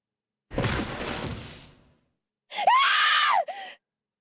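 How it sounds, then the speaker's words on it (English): A scream from the PC remaster of the visual novel 999: 9 Hours, 9 Persons, 9 Doors, set in an incineration chamber. A rough, noisy outburst is followed by a shrill, rising and falling cry, both loud and close after silence. "Another scream filled the room."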